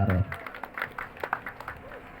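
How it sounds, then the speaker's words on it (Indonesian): Scattered hand claps from a crowd at a local political campaign gathering, uneven and fairly close, trailing off over two seconds with a voice briefly heard. "Tepuk tangan buat Kang Karom."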